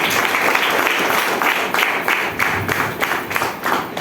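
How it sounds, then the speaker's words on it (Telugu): An indoor audience at a business meeting claps steadily and loudly, a dense continuous applause with no talk over it. "గ్రేట్ క్లాప్ చేయండి."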